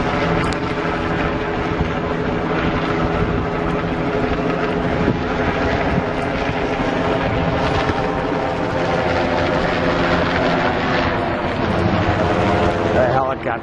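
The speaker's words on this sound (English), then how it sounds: "Helicopter." A helicopter flies over a NATO protest near McCormick Place in Chicago in May 2012, its steady rotor drone sustained and fairly loud throughout, with faint voices and wind noise underneath.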